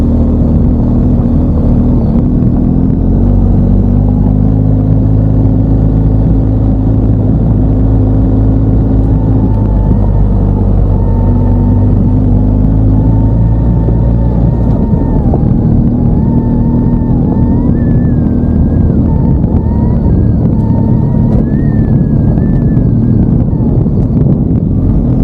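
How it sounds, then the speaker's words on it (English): Motorcycle riding uphill on washboard gravel along Chemise Mountain Road, a steady loud engine drone with rattling road rumble and wind buffeting throughout, revs shifting slightly, no talk. "it's not uncommon for the road to show washboards, and you can hear that in the background as I go up"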